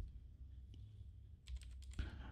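Quick typing on a computer keyboard, a short patter of faint clicks near the end, heard alone over a quiet background hum.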